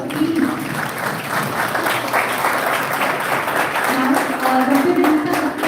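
A seminar audience at a college gives guests a big round of applause, dense and steady for several seconds, with a faint voice briefly audible beneath.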